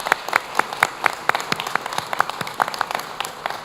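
Applause at a press conference announcing a hometown heroes parade, a crowd clapping steadily with dense, overlapping claps that stay fairly loud throughout.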